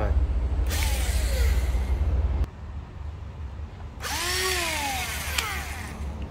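A cordless battery drill whirs in two separate bursts, its motor whine rising in pitch as it spins up, with a short quieter gap between runs and no talking.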